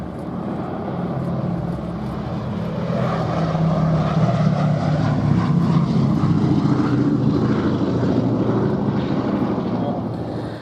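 A Boeing B-17G four-engine heavy bomber flies past at the Duxford air festival, its propeller engines droning in a loud, steady roar that swells and stays strong across the pass, with a voice faintly underneath.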